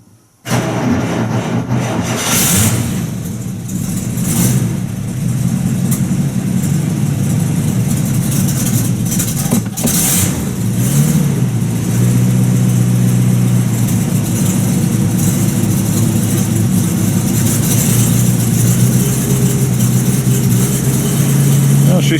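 A 1950 Buick Roadmaster engine turns over and catches, then settles into a loud, steady idle with a rough rumble and a constant hum, running on without a break close by.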